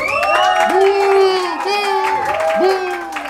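Live crowd at an evening Halloween concert in Palmira cheering, whooping and clapping for a performer, with loud sustained shouts rising and falling over steady applause.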